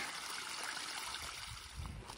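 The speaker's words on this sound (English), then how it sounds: "the high water route also has water running down it" Water runs down a hiking trail on the Appalachian Trail's high water route, a soft, steady trickle and babble heard at low level with no voices.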